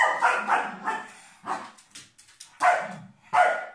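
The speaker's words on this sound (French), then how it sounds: "désolée pour les aboiements" A dog barks repeatedly in short, loud bursts, a quick run of yips followed by a few spaced, sharper barks close by.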